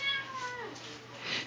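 A pet cat meows at close range while someone talks to it nearby.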